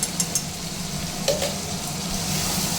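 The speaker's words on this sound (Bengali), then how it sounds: "এলাচের পাউডারটা অল্প করে একটু মিশিয়ে দিচ্ছে" Cardamom powder being stirred into chicken khichuri in a pot, a steady sizzle with a few light scraping strokes near the start and middle.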